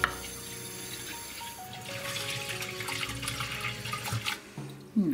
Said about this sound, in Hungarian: Kis vizet az alsó szintre is.